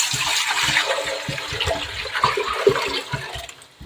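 Water splashes and pours steadily into a metal pot on a gas stove, a continuous liquid rush with occasional small clinks, close by and fairly loud.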